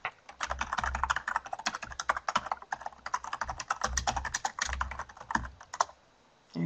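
Fast, steady typing on a computer keyboard sounds close and crisp, a continuous patter of key clicks that stops briefly near the end, with no talk.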